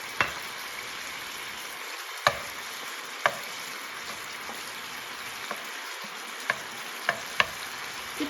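Garlic frying in oil in a pan for pad thai, a steady close sizzle with several sharp clicks of a utensil against the pan scattered throughout.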